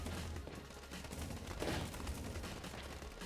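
SMG gunfire from the video game Deadly Days: Roadtrip hoses down a zombie horde as a steady, dense rattle of rapid shots under a noisy game mix, with a slightly louder burst midway.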